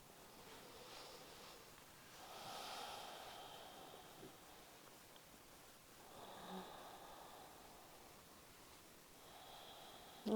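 Ujjayi breathing with the back of the throat constricted: slow, soft, hissing inhales and exhales in a quiet room, faint and close, rising and falling in long even waves.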